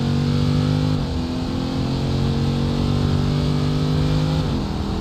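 A loud, steady video game car engine drone with pitch shifts as gears change, the revs dropping and rising again during a downshift.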